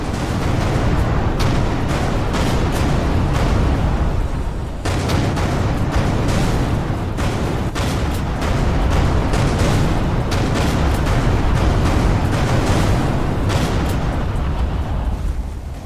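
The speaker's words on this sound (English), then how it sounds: "Vacate this area at once. Explosion imminent." Explosions in the space combat game Everspace 2 roar continuously as dense, booming blasts and crackling detonations, loud and unbroken apart from a brief dip near the middle.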